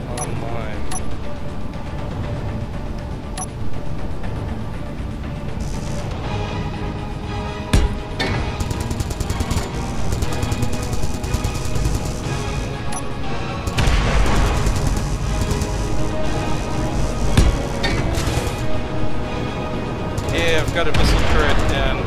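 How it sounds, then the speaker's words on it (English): Missile and standard turrets on a large ship in the Space Engineers video game fire in rapid bursts and booms that grow denser toward the end, layered over constant game noise while someone talks. "Got a missile turret and a regular turret on my big ship now. Hey, it's working."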